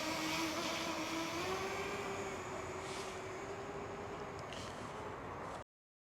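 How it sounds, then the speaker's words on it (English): A DJI Mini 4K drone hovers in the air, giving a steady high propeller whine and buzz that holds constant for several seconds before cutting off abruptly. "the drone will just sit and it'll hover there until it gets some input"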